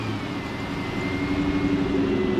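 Ford Mustang engine at a cars-and-coffee car show in Austin, a steady low rumble held at a constant loud level throughout, with no clear rev spikes.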